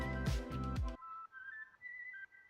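A whistle pitched and auto-tuned into melodic notes for a song, heard alone as a clean sustained tone that steps between pitches after a brief burst of music at the start.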